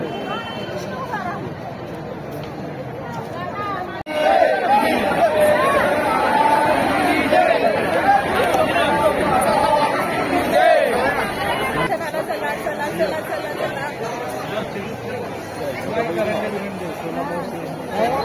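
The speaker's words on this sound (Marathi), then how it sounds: "गर्दी येते भाविकांची" Devotees waiting in the darshan queue at the Pandharpur temple fill the space with constant crowd chatter, a dense murmur of many voices that grows louder after a few seconds and stays steady.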